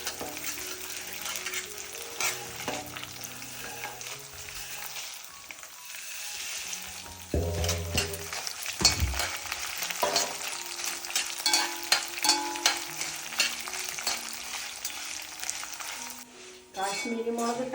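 Coriander and other whole spices crackle and spatter in hot oil for a brinjal pickle while a spoon stirs and clinks against the pan, the sizzle surging louder midway, close up with a voice briefly talking.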